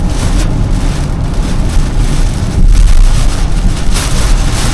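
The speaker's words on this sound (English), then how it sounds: "the rain is getting heavier" Heavy typhoon rain drumming steadily with a low rumble of wind and road noise, loud and continuous as a NIO car moves through it.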